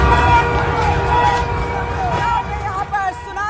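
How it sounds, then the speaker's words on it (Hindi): An ambulance siren wails with rising and falling tones through a dense crowd, with voices and general commotion filling the background the whole time. "ये वो सायरन है कि एम्बुलेंस है उसके सायरन की आवाज,"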